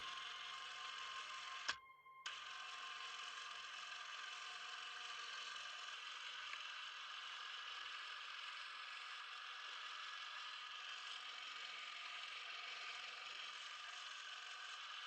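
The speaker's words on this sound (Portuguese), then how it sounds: "um cineasta amador filma com sua câmera de 8 mm" An amateur filmmaker's 8 mm film camera runs with a steady mechanical whir and ratcheting clatter, continuous and close. There is a brief gap near the start.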